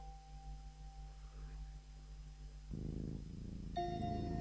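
A giant cat purring in the Yume 2kki video game, a low steady rumble under soft sustained synth tones, with brighter chiming notes entering near the end, quiet and without talk.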